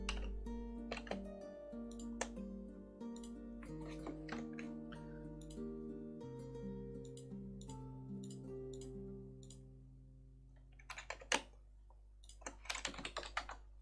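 Computer keyboard typing, bursts of quiet clicking keystrokes with pauses between them, close and soft, ending in a few quick, sharper clusters of taps.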